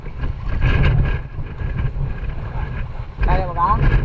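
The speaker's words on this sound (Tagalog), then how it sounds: "Parang malakas yata ang hangin masyado." Strong wind roars across the microphone at sea on a net-fishing boat during the Amihan monsoon, a heavy constant rumble with voices talking underneath.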